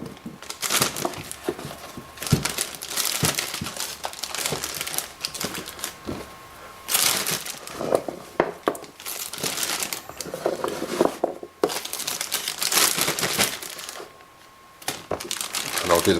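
Plastic bag crinkling and rustling as cut lamb roast vegetables are dropped in, a run of dense crackly bursts and clicks close by, with brief pauses between handfuls.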